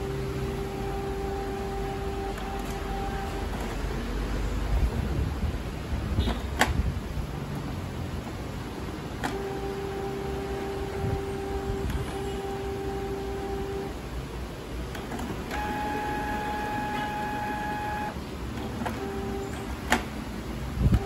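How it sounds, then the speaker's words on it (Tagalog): A Canon MP287 inkjet printer runs a deep cleaning cycle. Its motors whir in several separate steady tonal bursts over a constant hiss, with faint clicks and ticks between them and no talking. "Yan mga ka-JJR, nagdi-deep cleaning na."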